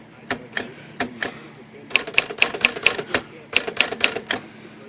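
A Smith Corona typewriter's shift basket, freshly repaired after binding and sticking, clacks up and down in quick repeated strokes, a few isolated clunks followed by two rapid bursts of sharp mechanical knocks, close and clear.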